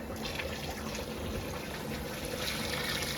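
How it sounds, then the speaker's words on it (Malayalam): Water poured steadily into ground masala in a large cooking pot, a continuous close splashing gush that holds at an even level for a few seconds with no break. "നമുക്ക് ആവശ്യത്തിനുള്ള വെള്ളം ഒഴിച്ചു കൊടുക്കാം."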